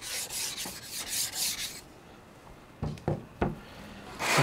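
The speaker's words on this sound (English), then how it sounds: "So we're just going to do a quick pass with the Atoma plate." A whetstone being flattened with an Atoma diamond lapping plate: quiet rhythmic gritty rubbing strokes, then a pause followed by a few soft knocks and scrapes, close and alone without talk.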